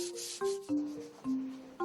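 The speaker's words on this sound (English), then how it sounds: "This process is called karatogi, dry sanding." Lacquer is dry-sanded with a whetstone or waterproof paper in four short, close rubbing strokes, each a quiet scratchy swipe with a faint squeaky tonal ring.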